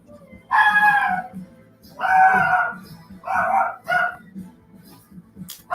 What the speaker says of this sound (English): You heard puppies.